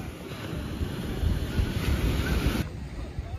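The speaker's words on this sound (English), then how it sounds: "I should get the ocean in the background." Ocean surf on a Florida shore rolls in as a steady broadband wash, fairly close and continuous, with wind buffeting the microphone and no voices over it.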